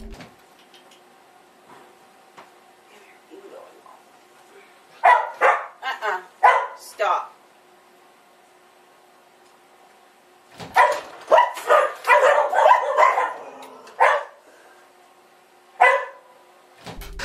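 Dogs bark in loud clustered bursts near a closet door in a home, separated by quiet stretches and ending with a single bark.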